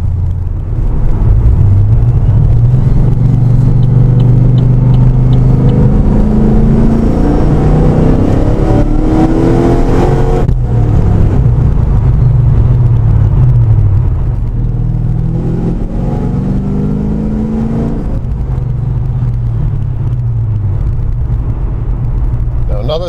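Car fitted with a Whipple supercharger driving, a loud steady engine drone with rising and falling revs and a faint supercharger whine, heard from inside the cabin under ongoing talk.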